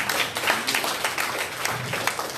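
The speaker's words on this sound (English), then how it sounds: "And yes, we can clap for that" A crowd at an Arlington, Texas Republican Club meeting in May 2021 gives dense, steady applause that stays fairly even in loudness throughout, with many hands clapping together and no clear pauses.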